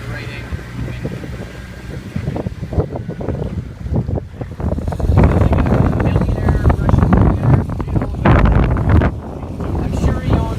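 A sailboat underway under sail with engines off, buffeting wind gusts and rushing water against the hull, loud and close, swelling stronger midway, while people talk.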